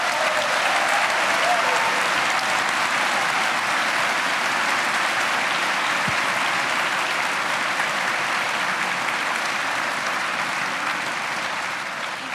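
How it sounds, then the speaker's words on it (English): A graduation crowd for the class of 2016 at Elon University applauds loudly and steadily, dense clapping that holds at full strength for about twelve seconds and eases slightly at the end. "another big old round of applause"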